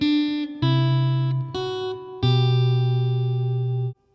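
A guitar plays a Tudor riff over an open E bass note. Four sustained notes change at even steps and ring out for about four seconds, with no other sound.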